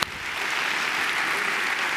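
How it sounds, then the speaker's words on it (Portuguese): Sustained crowd applause from a congregation at a televised church service, a dense steady wash of clapping that starts abruptly and holds at even loudness throughout, with no talk over it. "Jesus merece uma salva de palmas"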